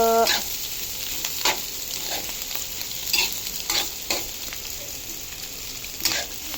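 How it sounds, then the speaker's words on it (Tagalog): Cabbage stirred in a hot pan, with a steady sizzle broken by repeated scraping strokes of a utensil every second or so, close up and with no talk. "Tapos, halo-haluin. Halo-halo, halo-halo."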